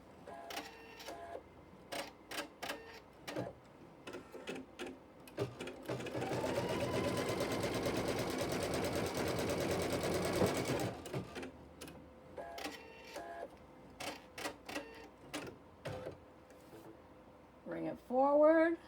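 A domestic sewing machine stitches a flying geese quilt block in one sustained run of steady mechanical whirring, framed by short bursts of needle clatter and small handling noises before and after.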